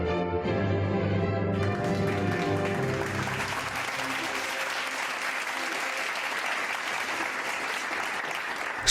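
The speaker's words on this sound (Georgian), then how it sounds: "სტუმრებმა ტაში დასცხეს" Wedding guests applaud in a church after Mendelssohn's wedding march; organ-like tones fade in the first seconds as a full, steady round of clapping takes over and continues to the end.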